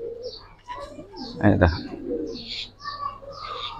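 Giribaz pigeons, including a pallah-line pair, coo softly and nearby amid chirps, while someone speaks briefly over them.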